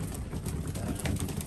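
Racing pigeons coo steadily in a loft during hand feeding, with a dense, continuous low murmur of birds close by and soft rustling throughout.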